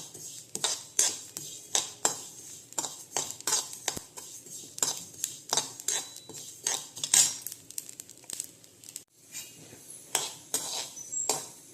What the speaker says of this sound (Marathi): आणि खसखस पण भाजून घेऊया अगदी साधारण असं हलकंसं भाजून घ्यायचं